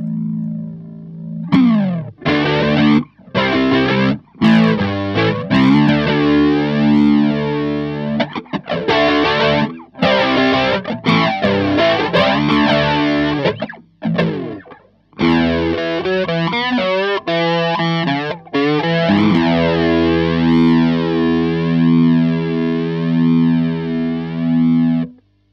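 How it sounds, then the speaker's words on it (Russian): An electric guitar played through a distortion overdrive effect, loud and thick, with chopped chords and sustained notes that ring out densely and continuously with no voices. "Дисторшн."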